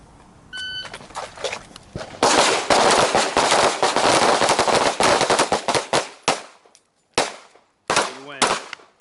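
A shot timer beeps, then a pistol carried appendix inside the waistband with a red-dot sight fires during shooting training: rapid strings of loud, sharp reports, a brief pause, then a few more shots and a short voice at the end.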